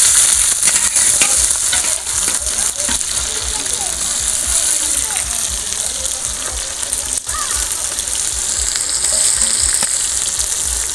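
Chopped onion with whole dried red chillies and cumin seeds frying in oil at a picnic cookout, a steady close hissing sizzle with some scraping stirs, continuous throughout.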